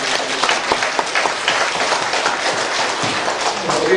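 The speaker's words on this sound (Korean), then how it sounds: "영광의 박수를." A congregation applauds during a church service, a dense, continuous burst of clapping lasting a few seconds at close range, with the tightly packed hand claps filling the room.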